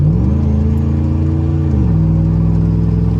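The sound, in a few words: lifted pickup truck accelerating, transmission shifting gears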